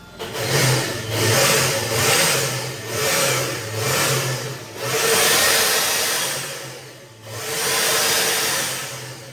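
Turbocharged Honda Vario scooter engine revving up and down in repeated surges, with about six long, loud pulls close by and a brief dip back toward idle between them.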